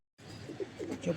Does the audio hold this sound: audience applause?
no